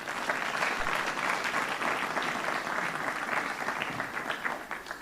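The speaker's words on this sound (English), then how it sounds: "So I think let's clap hands for that as well." Audience clapping steadily at a cybersecurity tech hackathon closing ceremony, a dense sustained round of applause lasting throughout, fairly close and even in loudness.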